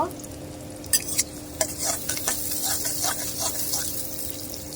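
Onions with green chilli and salt frying in oil in a pan, a steady close sizzle with a few sharp stirring scrapes early on, then an even hiss.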